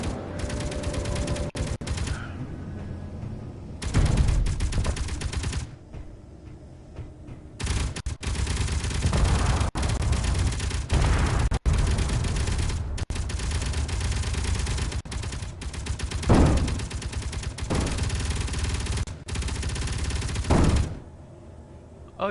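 Gunfire in the underground survival game Helios, with long rattling bursts of rapid shots broken by brief pauses, loud and sustained throughout.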